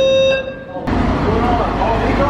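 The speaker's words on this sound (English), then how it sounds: "the fire alarm went off, but they kept wrestling" A fire alarm sounds during a wrestling show: a steady electronic tone rings at first, then is swallowed by a loud, dense roar of crowd and room noise.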